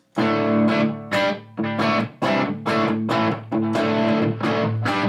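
Crunchy distorted electric guitar chords strum in short rhythmic bursts, each ringing briefly before the next, played alone and fairly loud.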